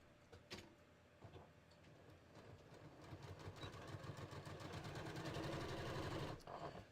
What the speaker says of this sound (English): I am just going to sew straight down my underarm seam.